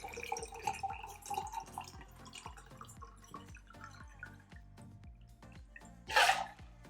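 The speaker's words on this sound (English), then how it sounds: "So let me go ahead and pour some water in here" Ice water poured into a color-changing vinyl Libbey beer can glass tumbler, with a rhythm of clinking taps and trickling liquid, then a short louder splash near the end; close and fairly quiet.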